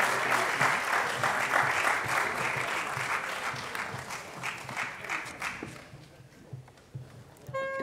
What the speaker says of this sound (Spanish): Podemos volver a aplaudir